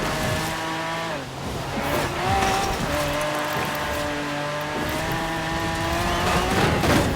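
A Bugatti Veyron racing on dirt through Britain in the video game Forza Horizon 4, its engine droning steadily with shifting pitch and tyre scrabble, loud and close, no voices.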